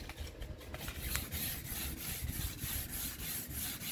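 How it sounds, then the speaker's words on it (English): Hand sanding of hard, freshly cured varnish on wood with 320 grit sandpaper, a steady rhythmic scratchy rubbing of quick back-and-forth strokes, close up with no talking. "I'm using a 320 grit sandpaper"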